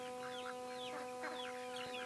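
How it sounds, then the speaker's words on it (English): A small chicken chick foraging for bugs beneath tall tomato plants in a backyard garden, giving soft repeated clucks and chirps close by, with a steady electrical hum underneath. "there's a little chick under here getting bugs"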